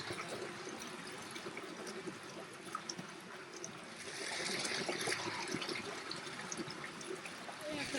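Stream water trickles and pours into a filter bag during a High Sierra backpacking trip near Big Whitney Meadow, a soft steady gurgle that grows slightly fuller midway, faint and close.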